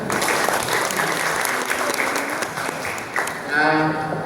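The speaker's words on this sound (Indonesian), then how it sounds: "Tepuk tangan" Applause from an audience at a school quiz competition, steady clapping that carries on evenly before a voice begins speaking near the end.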